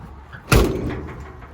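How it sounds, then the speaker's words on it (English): Door of a 1954 Chevy 3100 pickup truck, fitted with a new weather seal, shutting once with a single close, solid thud followed by a brief fading resonance, no voices. "shut the door, she lines up smooth, shuts tight, no more rattling"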